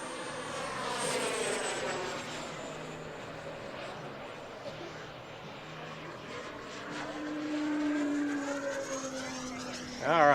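A Freewing Mirage 2000 EDF RC jet flies past with a steady, high ducted-fan whine whose pitch slides as it passes, swelling louder toward the end.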